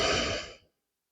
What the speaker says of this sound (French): On va respirer ensemble.